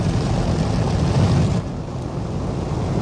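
An automatic car wash machine runs at a Shell station, a loud, steady, close roar of rushing spray and blowers that dips slightly partway through, with no voices.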